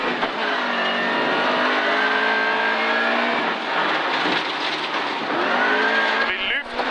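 Inside a two-wheel-drive rally car launching from a stage start at Rally Vetlanda, the engine roars loudly and steadily as it accelerates through gears, with voices talking over the constant engine noise.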